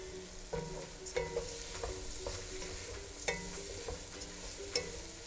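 A spoon stirs lobster bisque in a pot as rice goes in, with steady scraping and swishing strokes and a few sharper clinks against the pot over a soft simmering hiss, close and moderate.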